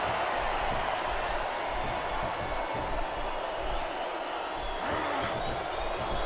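Wrestling arena crowd from SmackDown vs Raw 2007, a steady broadband roar of cheering that holds throughout, with faint commentator voices underneath.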